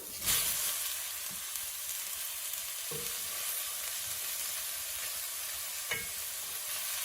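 Sem beans hissing in a hot, dry pan make a steady, bright sizzle that holds for several seconds, broken by a few soft knocks of stirring, with no voices.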